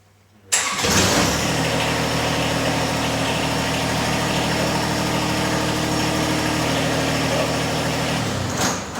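A John Deere 1023e diesel tractor engine cranks after glow plug warm-up and catches abruptly, then settles into a steady, loud idle that runs on evenly before cutting off at the end.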